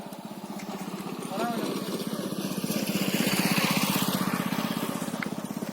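A tractor engine chugs steadily with a rapid, regular thumping beat, nearby and fairly loud, rising slightly midway as people talk over it.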